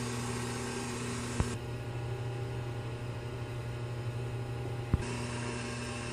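A tool grinder runs during wheel dressing with a steady, close electric hum and whine, and two brief faint clicks break the drone.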